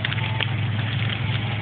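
Ice crystals from a January ice storm rattle into a car through its open window, a dense, steady crackling hiss over a low engine hum, continuous and close.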